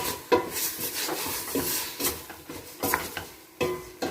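Meat for couscous sizzles in a pot while a utensil stirs and knocks against the metal in uneven strokes, close up with no voices.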